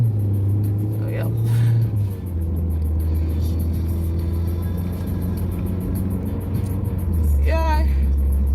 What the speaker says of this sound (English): waiting on the traffic